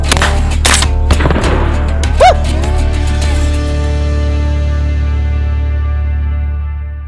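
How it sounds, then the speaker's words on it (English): Gunfire at a bulletproof Humvee windshield: several sharp, loud shots crack in quick succession, then a single later report, each followed by a long ringing decay outdoors. "Firing."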